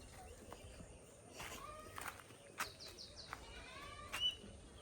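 Faint, scattered bird chirps and short calls ring out in an open outdoor setting in Ghana, with soft rustling and thuds in the background.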